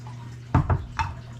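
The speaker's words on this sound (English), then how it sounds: "So there's our base, and then I'm gonna pour soup in. Just these store-bought cans right here." Store-bought canned soup poured into a pot, a few brief splashy glugs of liquid over a low steady hum, with no talking.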